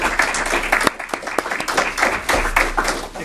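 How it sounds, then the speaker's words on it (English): An indoor civic event crowd gives a senator a round of applause, steady scattered clapping near and far lasting a few seconds, with faint voices underneath. "Please give him a round of applause"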